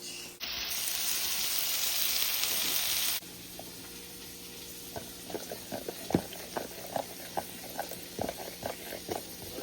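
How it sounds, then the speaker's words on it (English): A sausage patty cooks in a home kitchen pan: a loud steady sizzle for the first few seconds, then a quieter background with scattered clicks and taps as the frying continues. "All right, so the sausage is cooking."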